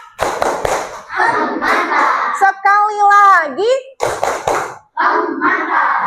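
Schoolchildren in a coding lesson clap together in a short patterned cheer, with bursts of hand claps near the start and again later, mixed with loud children's and a teacher's talking throughout.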